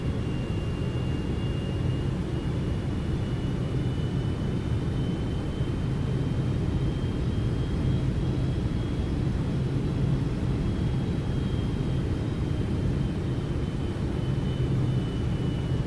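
Steady, loud broadband roar of Boeing 777-200ER engines on approach to runway 11 at Vienna in X-Plane 12, a constant rumbling drone with a faint whine, unchanging throughout with no talk.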